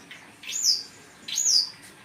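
Birds set out to sun in the rabbit cage area give two clear, bright chirps about a second apart, each rising then falling. They sound close and loud over a quiet background.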